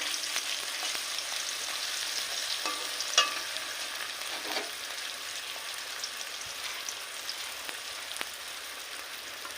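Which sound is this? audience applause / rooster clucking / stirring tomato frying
stirring tomato frying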